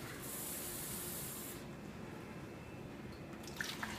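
Cold water poured into a cooking pot or measuring cup while preparing smothered chicken and gravy, a soft steady hiss of liquid lasting about a second and a half, followed by quiet handling noises.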